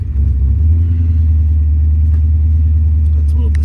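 A 1998 Aston Martin V8 Coupe fires up from cold, its loud, steady low engine rumble holding close and even through the clip, with a faint rise near the end.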